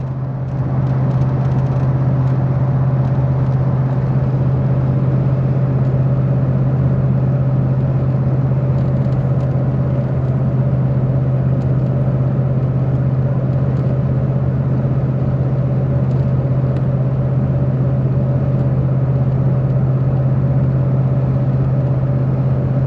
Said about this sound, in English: This 2000 Ford Expedition has been the most reliable vehicle I've ever owned.